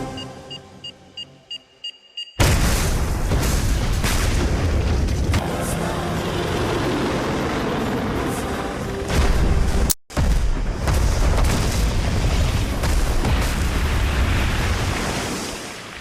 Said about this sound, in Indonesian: ledakan bom terjadi di kantor polisi itu